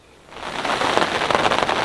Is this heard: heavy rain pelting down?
yes